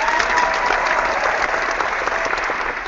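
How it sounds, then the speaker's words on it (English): Dense, continuous clapping, loud and close, sounds more like a group applauding than a single pair of hands, holding steady for a few seconds. "so I guess I can clap"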